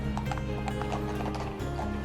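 Horses pulling carriages along dirt roads clop in a steady hoof rhythm, with a brief whinny mixed in, fairly faint and unaccompanied by speech.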